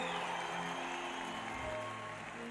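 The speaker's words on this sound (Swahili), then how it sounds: "mpigie makofi mazuri" Congregation in a church service applauds, a steady wash of clapping held at an even level throughout, with no talking over it.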